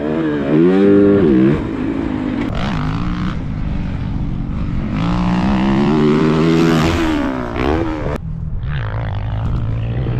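A 2023 Yamaha YZ450F motocross bike ridden on a dirt track, its engine loud and close throughout, revving up and down through gears with rising and falling pitch and no talk.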